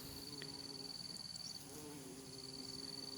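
Wasps buzz around flowering orok-orok (rattlepod) plants outdoors, a steady faint hum of insect wings running throughout with a thin high whine above it, with no voices.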